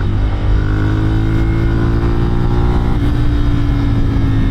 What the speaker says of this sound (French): voilà, c'est le bruit des Ducati